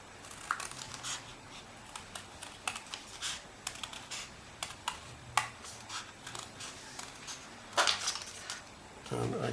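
Card being cut for a pop-up rainbow, a close series of short crisp snips and scrapes with small knocks, and a voice talking quietly at times over them.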